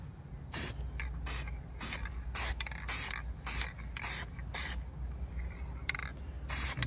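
A 1957 Chevy is spray painted in a rapid run of loud, close hissing bursts, each lasting about a quarter to half a second, over a steady low hum.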